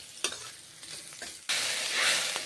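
Onions frying in a pan: a soft sizzle with a few light stirring knocks, jumping to a louder, steady crackling hiss halfway through, close by with no talk.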